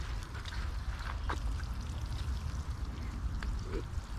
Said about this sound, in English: I always like to water my seedlings once I transplant them.